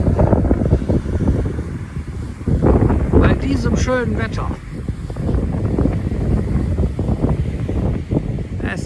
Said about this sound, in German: Es ist zwar etwas windig,